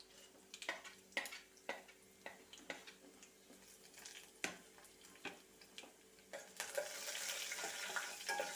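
Crushed fenugreek and cumin go into a pan for rasam: soft scattered clicks and stirring taps at first, then a faint sizzle that swells near the end.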